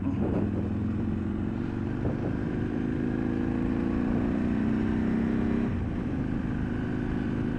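Motorcycle engine running steadily during a road ride, a continuous low drone with rising and falling revs and wind rumble close at the microphone, no talking over it.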